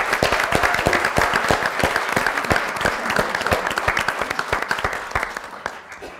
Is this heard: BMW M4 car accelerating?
no